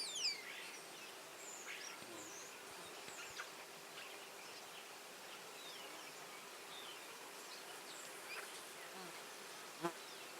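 Honey bees buzz around an open hive during an inspection, a faint continuous hum with scattered individual insects passing close, one brief sharper sound near the end, and no talking.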